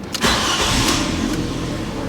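A Fiat Punto salvage car engine cranks briefly and catches, then settles into a steady mid-pitched idle, heard up close with no talking.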